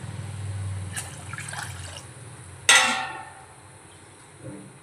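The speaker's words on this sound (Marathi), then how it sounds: "दुसऱ्या साईडला आपण तांदूळ उकळण्यासाठी पाणी ॲड करतोय." Water pours into a cooking pot to bring it to a boil for rice in a Hyderabadi mutton dum biryani, with a sudden splashing burst partway through over a quiet kitchen background.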